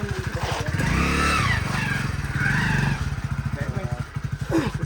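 A motorcycle-like engine chugs with a steady rapid putter and swells in a couple of revs as the vehicle turns around, close and prominent, with people talking over it.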